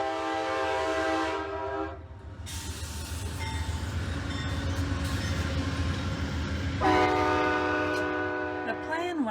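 A train rumbles past on railroad tracks beside a campground near Hot Sulphur Springs, its horn blaring loudly at the start and again near the end over the steady rolling clatter.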